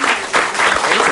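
Studio audience applause on a French television talk show, a dense burst of clapping lasting about a second.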